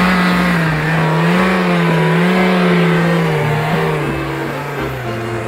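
A VW van engine revs hard and steadily up close with its back wheel stuck on a rock, the pitch rising and dipping slightly as the throttle is held.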